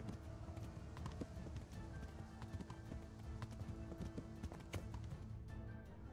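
Hooves clip-clop steadily as a horse runs in the medieval video game Kingdom Come: Deliverance, a fairly fast rhythmic beat under a constant low background hum, no talking.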